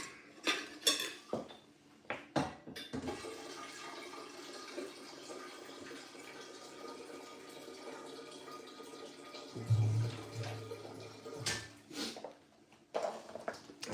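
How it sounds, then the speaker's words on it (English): A soup pot being filled with water in a home kitchen, with running tap water under clattering dishes, pans and cutlery, knocks and clinks scattered throughout and a brief low hum near the end. "I'm gonna fill this up with water"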